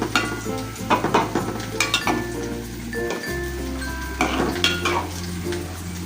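Fish frying in a pan with a steady close sizzle, overlaid by repeated clinks and scrapes of a utensil stirring against the metal.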